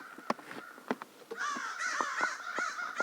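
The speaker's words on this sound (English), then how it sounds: "Birds are noisy." Crows caw repeatedly outdoors beside a DRZ 400 motorcycle being fitted with saddle bags, harsh overlapping calls at moderate distance mixed with light clicks and handling noise, with no talking.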